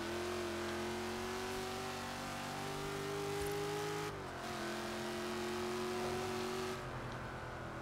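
A Ford Mustang Fox Body drift car in the video game Forza Horizon 3 holds a steady, droning engine note that dips once and rises again, heard alone without talking.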